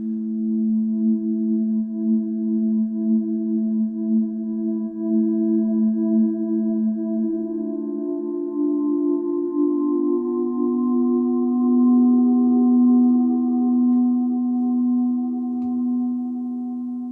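Arturia Pigments 3 synth holds a steady low drone while its filter gently oscillates, the tone slowly shifting and swelling with soft wavering overtones for about seventeen seconds, alone and fairly loud.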